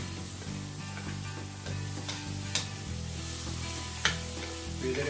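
Squid frying in a pan for seafood pancit canton, a steady close sizzle with a few brief scrapes from stirring, and no talking over it.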